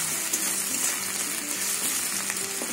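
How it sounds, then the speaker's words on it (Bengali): Chopped onions fry in a pan for a Bengali kachur loti dish, a steady close sizzle and crackle that runs unbroken and alone. "দুটো পেঁয়াজ দিয়ে দেবো। এবার পেঁয়াজটা ভাজবো না পুরো, মানে একটু নরম হবে।"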